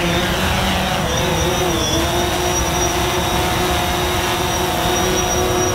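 A DJI Phantom 4 drone lifting off manually, its motors giving a loud, steady high whine with rising tones that shift slightly as the throttle is pushed up, heard close and continuous.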